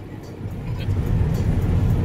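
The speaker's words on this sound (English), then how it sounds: "Driving my dad's car." A car engine hums steadily while driving, with low road rumble that swells slightly partway through, close and fairly loud inside the cabin.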